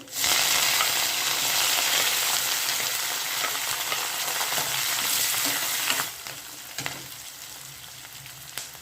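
Chopped onion, green chili and curry leaves dropped into hot oil, a loud dense sizzle that runs steadily and then settles to a quieter crackle with occasional stirring scrapes.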